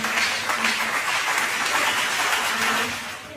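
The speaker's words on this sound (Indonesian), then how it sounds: "Tepuk tangan dong." Audience applause at an Islamic education history podcast event, a steady wash of clapping held for a few seconds before easing off slightly at the end, fairly close and dense.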